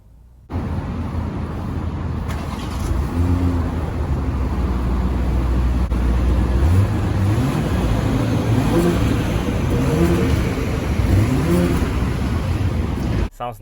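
A 2020 BMW X6 xDrive40i M-Sport idling with sport mode engaged, a steady loud engine rumble close by with a couple of mild rising revs partway through, running alone from start to finish.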